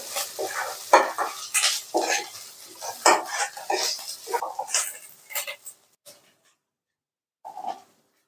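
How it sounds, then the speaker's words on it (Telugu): Ginger-garlic paste frying in a pan for a dried-fish ridge gourd curry, with sizzling bursts and a utensil scraping and stirring against the pan in rhythmic strokes, up close, before a brief silence and one final scrape. "కొద్దిగా అల్లం వెల్లుల్లి పేస్ట్ వేసుకోవాలి అన్నం అనేది పచ్చివాసన పోయేంత వరకు ఫ్రై చేసుకోవాలి"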